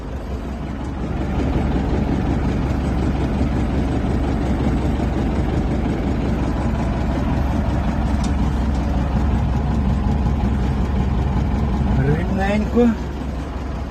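A tractor creeps slowly across a field towing a potato planter, its engine a loud, steady low drone that runs unbroken throughout.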